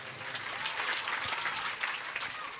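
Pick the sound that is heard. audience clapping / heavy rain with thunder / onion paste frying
audience clapping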